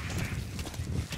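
Horse walking past in the open wilderness of the video game Metal Gear Solid V: The Phantom Pain, steady low hoof thuds close by over a continuous ambient wash, no voices.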